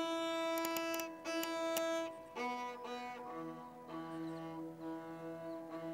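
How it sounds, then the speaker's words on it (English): Bowed gut strings of a sarangi, an Indian classical instrument, sustained in drawn-out tones with shifting pitches and several separate bow strokes, close and clear with no talking. "It has around three main gut strings. They sound like this."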